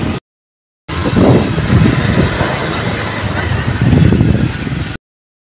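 A family motorcycle ride on an open road with riders aboard, a steady engine hum and rushing wind roar that starts abruptly, holds level for about four seconds, then cuts off.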